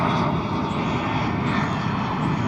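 Airliner landing on runway 36 right at DFW Airport at night, a loud continuous engine roar, steady and close for the whole short stretch, heard alone.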